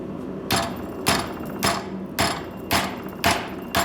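Metal struck with a hammer at a vise to fold it, seven sharp, ringing blows at a regular pace of roughly one every half second, close and loud.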